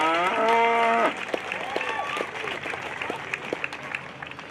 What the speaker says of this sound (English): Let's give her a big, big round of applause.